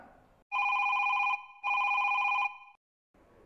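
A telephone rings on a call-in astrology show, two long electronic trill bursts separated by a short gap, loud and clear, with faint talk before and after.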